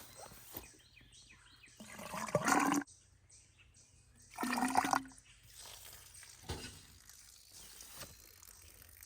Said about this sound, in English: That's an effluent coming out.